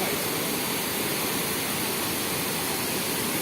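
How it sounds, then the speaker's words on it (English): Water rushes steadily over the rocks and small falls of Cheonggyecheon, the restored urban stream in central Seoul, a dense, even broadband roar with no speech. "Can you hear the sound of the water?"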